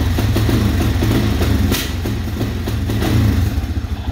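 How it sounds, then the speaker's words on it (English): An ATV engine idles with a steady mid-pitched rumble and light clatter, failing to rise when the throttle is pressed with the safety switch closed; the note stays flat and loud close by, with no voices. "now I try to rev it up"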